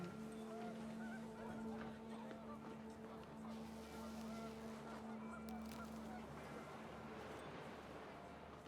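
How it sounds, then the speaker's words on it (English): Panicked geese honk in a windy outdoor scene from the video game What Remains of Edith Finch, a burst of cries over a steady hum and gusting wind, with a narrator's voice over it. "The wind picked up, and panicked geese appeared and quickly went."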